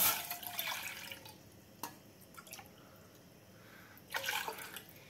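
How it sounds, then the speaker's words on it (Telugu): Water poured from a cup into a pot in a home kitchen, heard as quiet splashing pours at the start and again near the end, with faint drips in between. "ఈ కప్పుతోటి కప్పున్నర వాటర్ పోసుకోవాలి"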